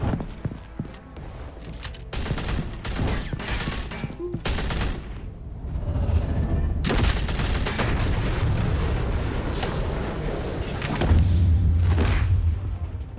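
Assault rifle fire in Batman: The Telltale Series comes as dense, loud bursts and sustained rattling volleys, broken by brief pauses, over a heavy rumbling action-scene background.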